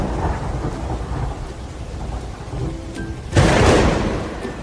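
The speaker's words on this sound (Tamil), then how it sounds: "ஒரு நாள் காட்டில் பெரிய புயல் வந்தது." Thunderstorm in a forest, with steady rain hissing and a loud close thunderclap cracking and rumbling partway through.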